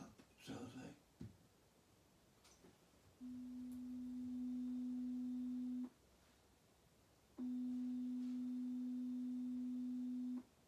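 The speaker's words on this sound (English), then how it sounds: "the first sound you're going to hear is the sound of a sine wave." A smooth, pure sine wave tone sounds twice, each a steady sustained note about two and a half seconds long with a short gap between, clear and alone after a brief bit of noise at the start.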